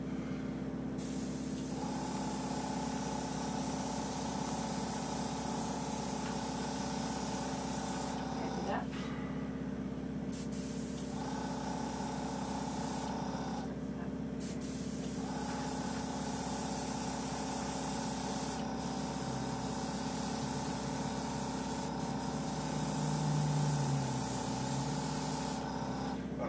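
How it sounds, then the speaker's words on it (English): An airbrush sprays foundation makeup in a steady hissing stream, with short pauses between passes, heard close up beneath continuous background noise. "It sprays foundation under the face."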